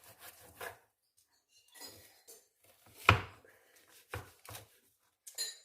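Knife sawing through a dense raw liver, producing intermittent close rasping and scraping strokes with separate bursts and quiet gaps between them, one stroke markedly louder than the others.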